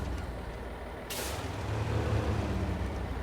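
Heavy truck in the SnowRunner video game releasing its air brakes, a sudden loud pneumatic hiss bursting in partway through over a low rumbling engine idle that grows slightly, no voices.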